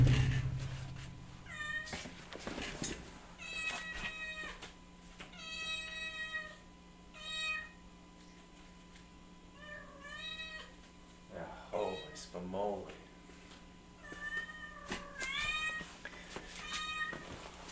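A mother cat that recently had three kittens cries from across a room by a window, giving a series of drawn-out, wavering meows at uneven intervals over a low hum, with brief noises between calls.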